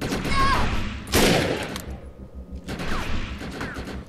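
Gunfire in the video game Defiance comes as two loud clusters of sharp shots, with quieter whistling and chirping effects around them and brief pauses between the bursts.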